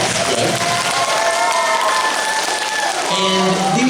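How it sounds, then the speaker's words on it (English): Audience applause and cheering for a university Army cadet choir, dense steady clapping from a crowd with some voices and talk mixed in throughout. "Behind me here is the University of North Georgia Patriot Choir. And yes, give them a round of applause."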